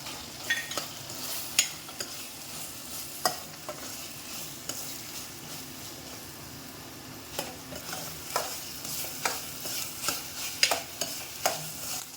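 Bitter gourd palya with grated coconut gets stirred in a hot pan, a steady soft sizzle broken by repeated spatula scrapes and taps in an irregular rhythm, close and alone with no voices.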